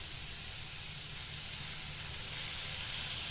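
Soybean oil sizzling around tomatoes in a frying pan, a steady close hiss that holds level throughout with no talking.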